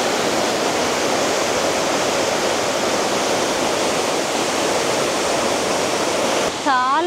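Kongala waterfall roars with a loud, constant rush of falling water close by, a dense unbroken wash, with a few brief high whistling tones at the very end.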